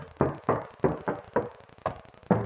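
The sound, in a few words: knocking on Mitsubishi Lancer GLX front door metal panel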